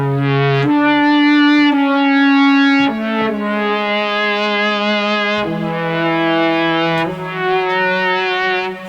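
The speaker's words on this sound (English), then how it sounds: "So you could load a flute sound preset and run it through distortion, followed by a chorus and a reverb" An MC-101 groovebox plays a melodic line on a flute preset run through distortion, chorus and reverb, giving buzzy, harmonically rich sustained notes that change pitch every second or two, loud and alone.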